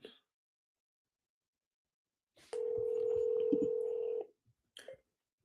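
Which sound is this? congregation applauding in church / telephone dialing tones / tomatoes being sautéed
telephone dialing tones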